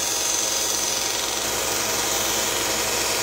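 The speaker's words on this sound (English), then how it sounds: "The next thing I'm going to do is take this sharp edge off on the belt sander." A belt sander grinds the sharp edge of a metal spoon being made into a ring, a loud, continuous abrasive whir with steady rasping close by that stops abruptly at the end.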